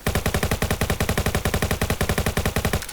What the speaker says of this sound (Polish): Ktoś w mnie strzela.